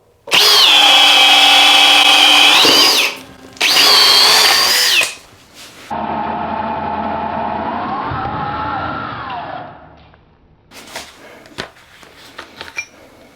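A Milwaukee Fuel 2804-20 and a Metabo HPT 36V DV36A hammer drill drive 4-inch by 1/2-inch lag bolts through a 3/4-inch impact socket and adapter. Two loud, close, high-pitched motor runs with a short break come first, then a lower, steady whine that slows and stops, followed by a few clanks.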